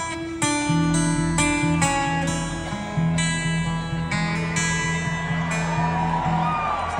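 Electric guitar plays a riff through a guitar pedal, a steady run of plucked, sustained notes with a strong low pulse, loud and close with no voices.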